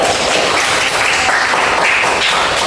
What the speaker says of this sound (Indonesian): Kita beri tepuk tangan kepada Rizky ya